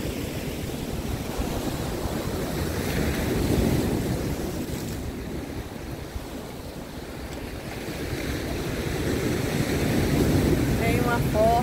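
Ocean waves surge and break on the beach at Boa Viagem, a continuous close roar of surf with wind buffeting the microphone and occasional voices.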